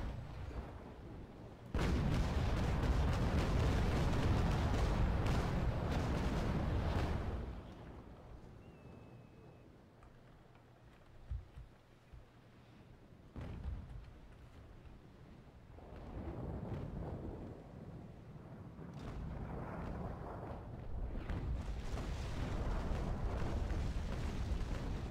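Heavy naval cannon broadside from the Naval Action ship battle game, a loud sustained rumbling barrage of blasts that fades to quieter crackles and distant booms, then swells again into another roaring wave of fire.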